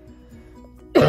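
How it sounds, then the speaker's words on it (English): A single sharp cough bursts out close to the microphone after a moment of near-quiet room tone. "And a bit of a cough because of it."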